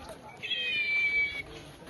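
A cat lets out a single drawn-out, high meow lasting about a second, close by, with a faint background of voices.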